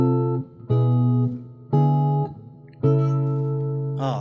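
A chord progression of four sustained chords, each struck cleanly and held for about a second with brief gaps between, moderately loud and alone; a faint bright noise at the end.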